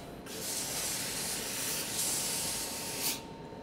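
A Laurastar steam iron blasts fabric with a loud, continuous hiss of steam for about three seconds, then cuts off abruptly.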